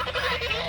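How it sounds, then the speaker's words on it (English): A single short goose honk, sharp and nasal, close by and alone without any talk. "The geese are mad at me"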